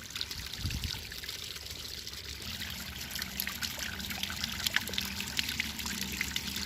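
A natural waterfall formed on the Padma River near Rajshahi, with water trickling and splashing in a steady, continuous close stream and no one speaking.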